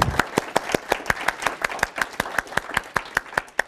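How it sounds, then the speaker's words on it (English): Steady round of applause from a library panel audience, with sharp individual claps clearly separated and evenly paced, close and lively, no voices over it. "So I think we should give them a round of applause to say thank you for coming out."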